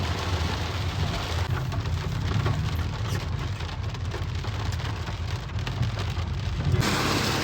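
Heavy rain pours down steadily in Dehradun, a dense, loud hiss of drops hitting surfaces with a low rumble underneath, continuous from start to finish.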